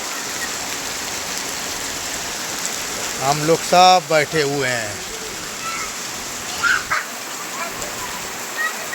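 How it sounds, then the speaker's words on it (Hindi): Heavy, steady rain that has been pouring since the night before, a dense close hiss running through the whole stretch while someone speaks briefly in the middle, with a few faint louder spatters later. "बहुत तगड़ा पानी हो रहा है, कल रात से नहीं बंद है पानी।"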